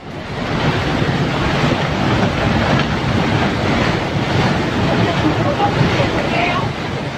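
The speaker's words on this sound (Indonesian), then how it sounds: "banjir bandang tampak datang tiba-tiba dengan arus yang sangat deras" A flash flood rushes by in a powerful current, a dense, roaring wash of turbulent water that stays loud and continuous from start to finish, with faint background babble and wind buffeting the microphone.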